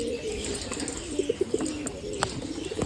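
Domestic pigeons cooing inside their coop, a run of low, rounded coos over a busy background of rustling and faint wing movement, close and moderately loud.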